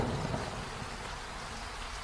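A rainstorm in an animated children's story: dense, steady hiss of heavy rain with a low rumbling undertone, loud and continuous with no voices.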